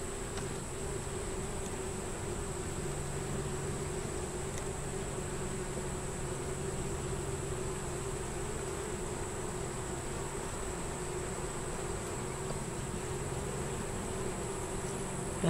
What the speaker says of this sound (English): And I got a lot of bees in it now.